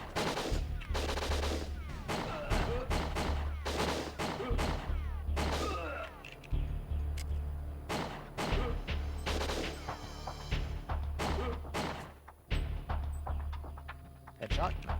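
Gunfire in the N64 game WinBack: rapid, sharp shots crack out in quick bursts and volleys almost nonstop, loud and close, with a voice talking over the action.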